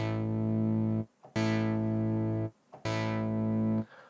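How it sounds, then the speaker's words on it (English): Synth chords programmed to sit under doubled rhythm guitars, an LFO sweeping the high-cut filter. Three loud sustained chords with bright attacks that dull as they hold, separated by short gaps, no voices. "I decided to use an LFO, which is a low frequency oscillator that changes where the cutoff of the high cut is, and it moves."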